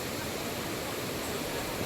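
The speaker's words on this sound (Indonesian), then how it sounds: "untuk menikmati suasana di tepian sungai ini" Flowing river water at a riverbank, a steady broadband rushing wash that continues evenly and fairly faintly with no pauses.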